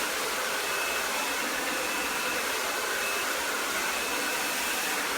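A hair dryer blows steadily while drying a section of hair, a loud, unbroken airy whoosh with a faint whine that holds nearly constant throughout.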